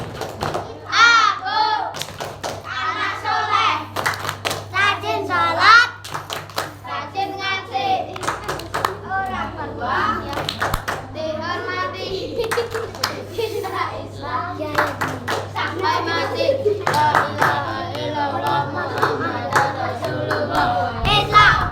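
Children at a Quran school opening in a prayer room chant the 'tepuk anak soleh' clapping rhyme, sharp rhythmic handclaps punctuating their loud chanted voices, with an adult voice leading among them.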